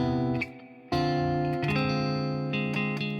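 Electric guitar with a distorted, effected tone plays a progression using a borrowed half-diminished two chord, with sustained ringing chords struck one after another and no talking over them.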